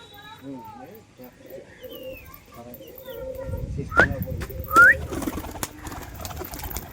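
Roller pigeons coo and flutter nearby in a loft amid a busy outdoor soundscape, with a few sharp chirps and scuffles toward the end.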